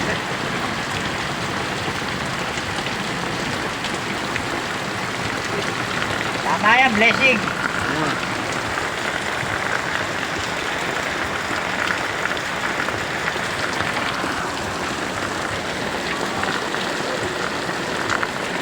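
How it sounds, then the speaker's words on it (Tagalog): Steady, dense rain patters continuously on surfaces close by, with a person speaking briefly partway through. "Nabot kami ng ulan."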